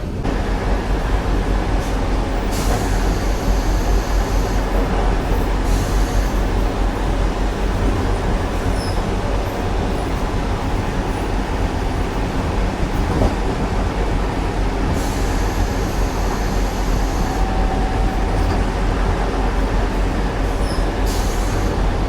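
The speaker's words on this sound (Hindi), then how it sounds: "अपनी वंदे भारत एक्सप्रेस अभी एंटर कर रही है चंबल रिवर पे बने ब्रिज में" Steady rumble and clatter of a Vande Bharat Express running at speed, heard from inside a coach while crossing the Chambal river valley between Agra and Gwalior, a continuous loud roar with brief higher whines and faint squeals.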